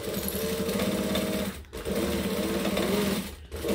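Sewing machine stitching a back stitch, a loud, steady close mechanical whir with a rapid needle rhythm that stops briefly twice, each time for a short pause before running on.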